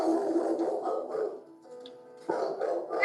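A pit bull dog found at an abandoned house barks and yips in a continuous run of muffled, close calls, with a brief quieter lull in the middle before the barking resumes.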